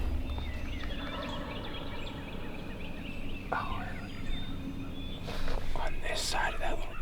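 A wild turkey gobbling in the distance on southeastern spring public land, a brief faint gobble behind a hunter's close whispering and outdoor ambience.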